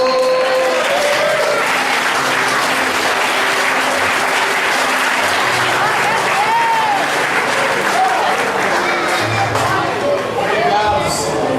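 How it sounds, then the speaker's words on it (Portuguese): A church congregation applauds steadily during a sermon, with dense, loud clapping that continues throughout and a few voices and cheers mixed in. "Quem pode aplaudir ao Senhor?"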